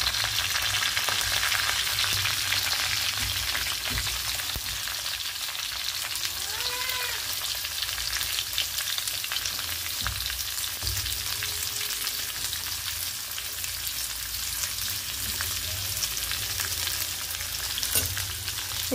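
Onions sizzle in a pan with two bay leaves, a steady continuous frying hiss with faint stirring scrapes throughout, no voices.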